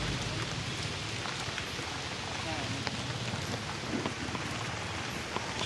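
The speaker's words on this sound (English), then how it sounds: "Look at the weather, it's raining." Steady rain falling outdoors at a home in the savanna, a constant soft hiss with scattered drop ticks, heard with some faint background activity.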